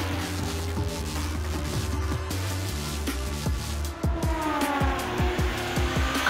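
A racing engine screams along a track, loud and close, with the pitch climbing repeatedly through rapid gear changes and faint tire noise under it.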